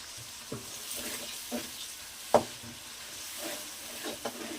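Soft stirring scrapes and occasional knocks of a spoon against the pot over a low sizzle as kasuri methi is mixed into simmering mutton kurma, with no one speaking.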